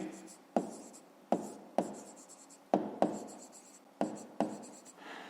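Pen or pencil writing on paper while working a fifth-grade math exercise on fractions and distance, with a string of sharp, close taps and scratchy strokes in an irregular rhythm, alone with no talk.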